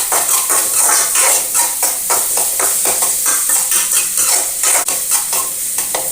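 Food being stirred and sautéed in a pan in a home kitchen gives a continuous sizzle and frying hiss, with repeated scraping strokes of the spoon. The sound is close and steady, with no talk.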